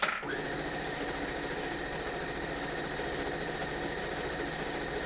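A sewing machine stitches quilt pieces together in pairs, a steady close mechanical whir and rapid needle chatter running unbroken and loud, with a small clunk as it starts.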